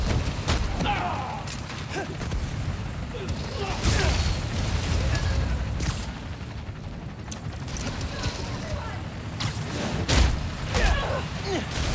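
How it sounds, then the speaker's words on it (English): Scattered gunshots and bursts of gunfire in a blizzard in Marvel's Spider-Man: Miles Morales, moderately loud against a steady noisy background, with a voice talking intermittently. "I need to head toward the gunfire."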